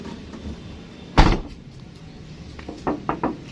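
Rear hatch of a Daihatsu Xenia swung shut, one solid thud of the door closing, followed moments later by a few lighter knocks and rattles nearby.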